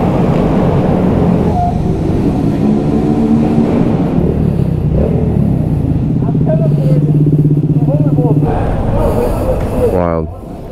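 A Honda Grom minibike rides laps on an indoor go-kart track, its small engine buzzing and shifting pitch as it accelerates and backs off, with a rider talking over the motor.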